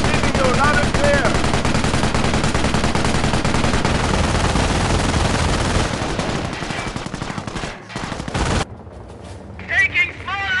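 Sustained gunfire crackles through a Company of Heroes World War II battle at Oosterbeek, with dense overlapping rifle and machine-gun bursts that thin out toward the end as voices call out.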